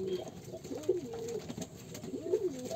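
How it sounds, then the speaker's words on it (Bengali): Fantail pigeons coo while feeding on grit, repeated soft rolling coos close by, two distinct bursts rising and falling over a low background rustle of pecking birds. "এই যে ময়ূর কবুতর গিরিট খুঁজতে আছে, আর এদিকে আরেকটা ময়ূর কবুতর কিন্তু গিরিট খাইতেও আছে"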